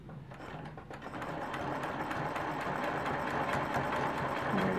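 Sewing machine stitching around a quilt diamond, a continuous fast mechanical whir with rapid rhythmic needle ticking, steady and close.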